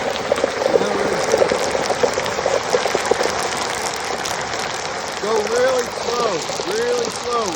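Dense crackling and sizzling of a turkey deep frying in overly hot oil, loud and continuous, with a voice speaking over it toward the end.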